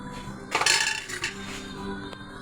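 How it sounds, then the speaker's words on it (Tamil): A metal lid clatters onto a pot of boiling anchovy fish curry with a short clink, followed by a lighter clink moments later, fairly close. "இப்போ நம்ம மூடி வச்சிடலாம்."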